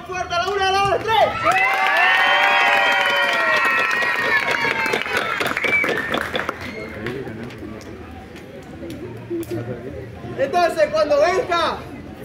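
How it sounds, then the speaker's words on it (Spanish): A large audience claps and shouts loudly together at a live event, a dense roar of cheers and applause swelling for several seconds, then easing into crowd chatter before another burst of shouting near the end. "vamos a aplaudir y vamos a gritar bien fuerte"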